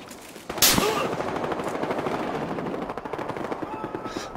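Rapid automatic gunfire crackles in the video game Battlefield Hardline, a dense, steady burst of shots that runs continuously after a sharp opening blast.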